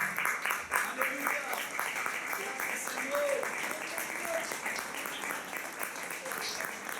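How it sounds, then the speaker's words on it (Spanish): A church congregation applauds during a Sunday morning service, with steady, moderately loud clapping throughout and faint voices mixed in. "¿Cuántos aplauden la palabra del Señor en esta hermosa mañana que hemos llegado?"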